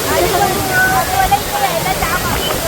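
Steady roar of a rain-swollen river rushing near Poladpur, loud and continuous, with a faint voice murmuring underneath.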